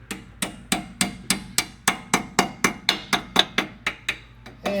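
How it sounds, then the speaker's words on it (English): Sharp metallic taps from a small hammer striking a metal fitting during a brake upgrade on a 2002 Pontiac Firehawk, about fourteen evenly spaced blows in a steady rhythm, close and clear. "take a little hammer, a little persuader,"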